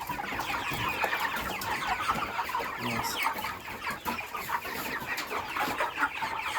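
Broiler chickens at 48 days old clucking in a farm shed, a dense overlapping chorus of soft clucks and chirps, close and continuous, with a faint voice now and then.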